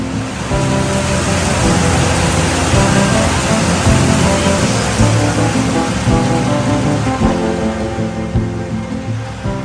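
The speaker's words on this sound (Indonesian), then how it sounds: "Tiba-tiba hujan deras" A heavy midday downpour at Lake Tamblingan in Bali makes a loud, steady, dense hiss that runs unbroken throughout with no voices.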